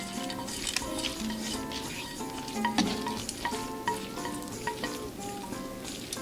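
Bacon being stirred into tagliatelle carbonara in a hot pan sizzles softly but steadily, with small utensil scrapes and clinks scattered through it and no voices.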